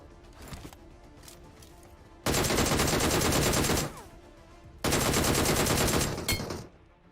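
Gunfire in the BGMI battle royale game comes as two long, loud automatic bursts of rapid shots, each lasting over a second, with quieter scattered shots before them.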